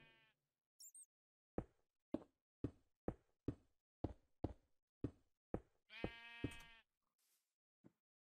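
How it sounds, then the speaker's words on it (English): Sheep bleating in the video game Minecraft, several distinct bleats rising out of near silence with a run of evenly spaced knocking or tapping beats between them. "I hear more sheep."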